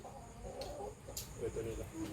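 Chickens and roosters cluck and call in a rural Thai yard, several short bursts rising over soft background noise, fairly near but not loud.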